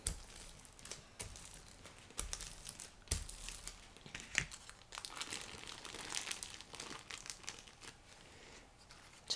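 Tissue paper crinkles and rustles up close as it is handled for collage work, in uneven crackling bursts with sharper crunches now and then. No voices are heard.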